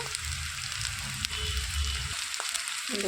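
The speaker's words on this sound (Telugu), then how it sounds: "కట్ చేసి పెట్టుకున్న ఆనియన్స్ కూడా వేసేసుకోవాలి వేయించుకోవాలండి ఎర్ర రంగు వచ్చే వరకు" Chopped onions fry in oil in a pan, giving a steady close sizzle and crackle throughout, with faint low clatter underneath.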